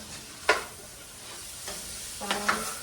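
Sausages sizzling in a pan during home brunch cooking, a soft steady frying hiss with a few brief scraping stirs, close and quiet.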